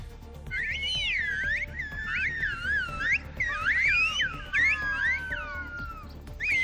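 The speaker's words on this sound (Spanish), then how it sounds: "en La Gomera ya ha mandado al mundo el agradecimiento silbado desde Canarias" Loud, clear Silbo Gomero whistled language on La Gomera, Canary Islands, in repeated phrases of rising and falling tones, carried like a message, with a faint background hum.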